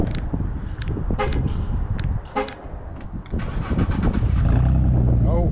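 A few short electronic chirps sound as a remote starter is triggered, then a 2022 Ford Mustang GT engine with manual transmission cranks and settles into a steady running hum, all heard up close.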